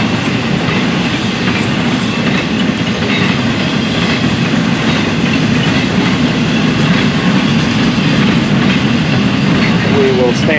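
A Florida East Coast Railway freight train rolls past close by, a loud steady rumble of wheels and rail clatter that fills the whole stretch, with brief squeals near the end.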